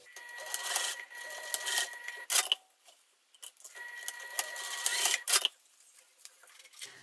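Sewing machine stitching two exterior fabric pieces of a sling bag together: quiet bursts of rapid mechanical whirring and clatter, starting and stopping in short runs with brief pauses between them.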